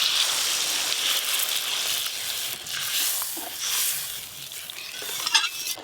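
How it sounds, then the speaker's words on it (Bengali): Water poured onto spice paste frying in oil in a pan for a fish curry, giving a steady close hiss and sizzle with faint stirring scrapes, no voices. "এবার জল দিয়ে দেব।"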